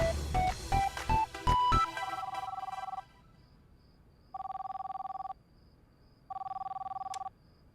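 A telephone rings late at night, preceded by a quick run of dialing tones, then two long electronic rings with silence between them, clear and fairly loud, with no talking.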